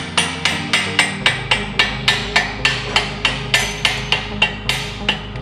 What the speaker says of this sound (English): use a little rawhide to tap the pin through